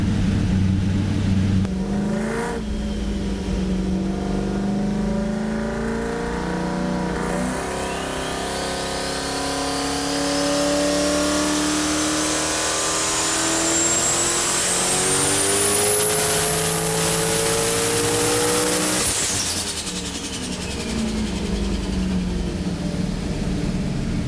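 A turbocharged V8 engine in a Toyota Supra with a rear-mounted turbo revs up with rising pitch, climbing steadily for several seconds before dropping off, then idling and building again.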